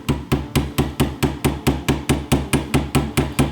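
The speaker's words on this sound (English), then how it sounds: "Let me try running this roll pin in first." A brass hammer taps a roll pin into a steel Colt Python revolver during a night sight install, striking in a steady, close, evenly spaced series of about fifteen sharp metallic blows.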